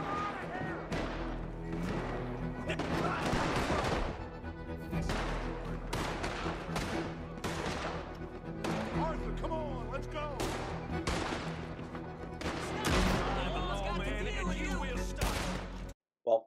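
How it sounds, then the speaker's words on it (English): Pistol fire during a police shootout in Red Dead Redemption 2, with a steady run of sharp shots spaced roughly every second, over a din of other gunfire and shouting voices. "Carrying Angelo, you can use the pistol to shoot the police."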